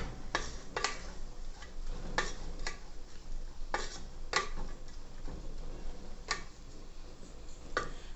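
Sliced onions are stirred in a pan with a utensil while cooking a pork curry, giving a string of sharp scraping clicks at an uneven rhythm over a soft background hiss, with no voices.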